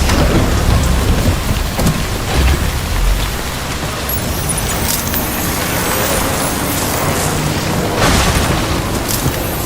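Timefall rain pours steadily in the video game Death Stranding, a dense loud hiss of rain on surfaces with low rumbling thunder rolling underneath throughout, no voices.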